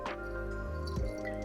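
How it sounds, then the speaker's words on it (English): A small splash of vinegar is poured into a rabbit tartare, giving a short close liquid drip and squish against a quiet kitchen background with no talking. "I'm just gonna take a splash of the vinegar"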